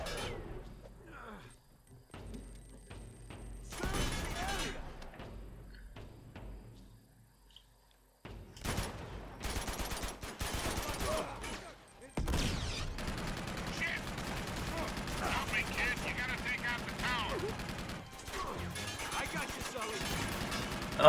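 Blind-fire gunshots in Uncharted 2, coming in scattered bursts after quiet stretches, then a dense run of loud gunfire and impacts under game noise, with some voice mixed in.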